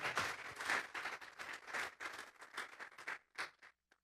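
A church congregation claps in praise to God during a morning service, a loud, irregular burst of applause that thins out toward the end, with scattered voices mixed in.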